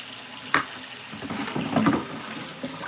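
Tap water runs and splashes while plates are washed outdoors during garden work. A soft, steady trickle carries a few light clinks and splashes, fairly close and quiet, with no speech.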